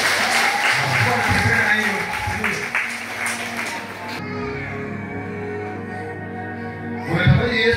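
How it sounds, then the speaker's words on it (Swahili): A congregation at a church healing service claps for Jesus in a loud burst of applause. It tapers after a few seconds into sustained music and a voice. "Makofi kwa Yesu"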